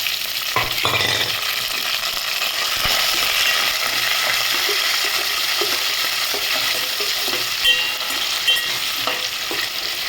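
A tempering of four crushed garlic cloves, onions and curry leaves fries loudly in oil for a leafy-greens dal, a constant close sizzle broken by rattling stirs and scrapes.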